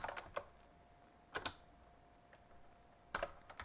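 Keys clacking on a computer keyboard as a ping command is entered, short bursts of quick keystrokes separated by pauses, close and fairly quiet with a faint steady hum underneath.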